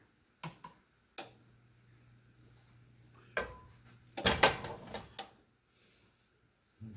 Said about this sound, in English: Now we're sitting here scraping the pan to try to get just enough everywhere.